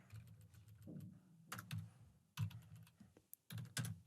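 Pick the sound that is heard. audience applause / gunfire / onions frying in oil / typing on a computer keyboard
typing on a computer keyboard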